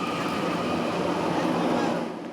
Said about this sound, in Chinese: 红白普悠玛20正式通车，一早就伫车站月台咧等